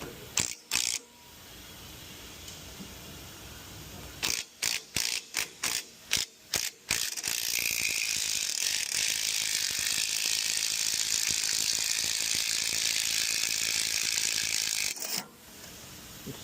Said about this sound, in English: Take the nut off.